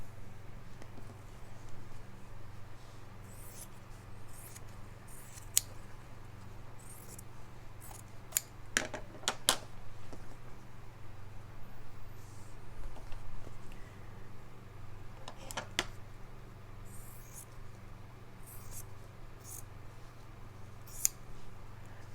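Scissors snipping through printed fabric text for a slow-stitching apple snippet roll, sparse quiet cuts at first, then a cluster of crisp close snips midway and a few more near the end, over a low steady background hum.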